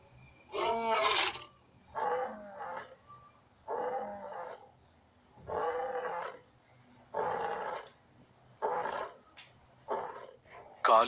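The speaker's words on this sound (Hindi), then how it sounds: "अपनी ताकत दिखाने के लिए वो जोर से दहाड़ रहा है।" An African lion roars loudly in the wild, a run of repeated deep, rough calls in evenly spaced bursts with quiet gaps between them, heard close and alone.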